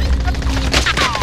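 Bursts of Call of Duty gunfire crackle through a busy, noisy game mix, with sharp broadband cracks and a booming low rumble over about a second.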